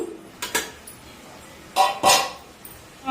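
In a home kitchen where dum biryani and chicken curry are being cooked, pot lids come off with clattering metal clinks. The sounds arrive as a few separate close knocks and scrapes, two small ones early and a louder pair later.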